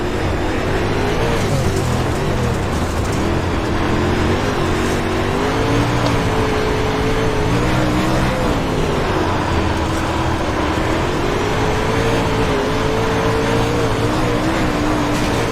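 A street stock race car engine in the iRacing simulator drones continuously at throttle, its pitch rising and dipping through corners with steady, loud, sustained tone and no voices.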